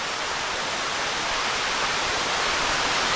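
Cottonwood Falls in Worlds End State Park, Pennsylvania, a continuous broad rushing roar of falling water, steady and fairly near with no other sounds.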